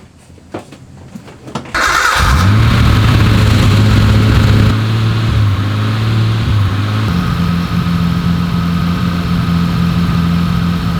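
A Nissan Skyline with a newly fitted exhaust cranks, catches and fires up loudly after a few faint clicks, then settles into a steady, droning idle with a deep, even exhaust note that rises slightly partway through.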